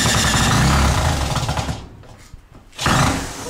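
A power driver runs reinforced self-tapping screws into a wooden shed door, a loud, steady hammering buzz that cuts out briefly before a second burst starts up close.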